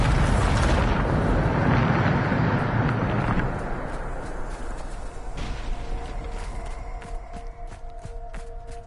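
A Bombarda spell detonates in a Hogwarts video game with a loud, rumbling explosion that fills the first few seconds, then decays into a quieter settling tail with faint debris and ambient tones.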